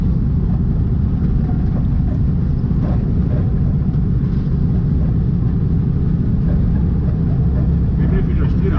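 Air-cooled engine of a slammed 1965 VW Beetle on the road: a steady, loud low rumble with a continuous throaty drone throughout, with no clear breaks.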